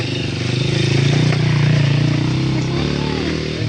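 Motorcycle engine passing nearby on a road by a shallow river, a steady mid-pitched drone that swells and fades over a few seconds.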